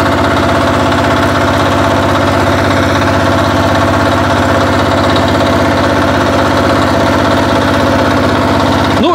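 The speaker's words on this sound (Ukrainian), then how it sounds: "Тепер ставлю зменшену, вижимаю нейтральну швидкість, правою рукою вижимаю важель реверсу і рухаюсь назад." A vehicle engine running loud and close, a constant low rumbling drone with steady vibration while the gear is shifted into reverse and the vehicle backs up.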